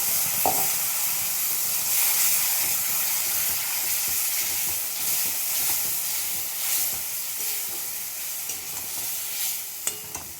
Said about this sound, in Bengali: দেখো আলুগুলো ভাজা হয়ে গেছে। এর মধ্যে যে মশলাটা করে রাখলাম সেটা দিয়ে দিলাম।